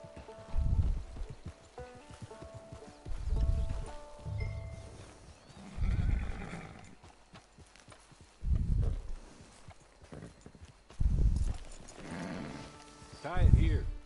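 Horse hooves clip-clop in the video game Red Dead Online, arriving in several separate short bursts of steady trotting steps. Quiet stretches fall between the bursts.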